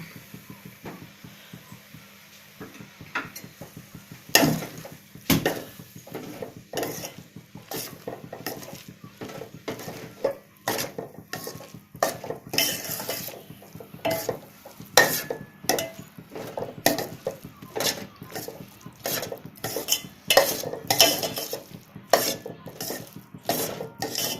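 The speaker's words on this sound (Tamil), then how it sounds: "இப்போ இதில் வந்து ப்ரெட்டை போட்டு மிக்ஸ் பண்ணலாம்." Bread pieces being stirred into egg masala in a pan for a Tamil breakfast dish, with a spoon scraping and clinking against the metal in a rapid, uneven series of close, fairly loud strokes and no talking.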